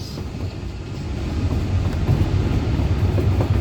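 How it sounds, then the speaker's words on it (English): A small working railroad train rolling along its track beside a river, a steady low rumble of wheels building slightly louder over a few seconds, with some wind noise. "It's a real working railroad."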